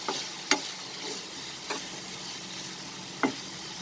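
Vegetables including carrots sautéing together in a pan for rice vermicelli, a soft steady sizzle broken by three sharp scraping stirs spaced apart, close and fairly quiet with no talking.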